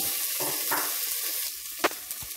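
Mung beans with string beans and okra sauté in a hot pan, giving a steady, close hiss of sizzling with occasional pops and stirring scrapes, with no talk over it.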